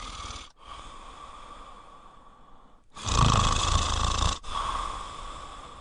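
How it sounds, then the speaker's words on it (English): Snoring sound effect in a children's audiobook, two long rasping snore breaths separated by short silent gaps, the second louder and rougher, close and alone. "Bobo snores all night."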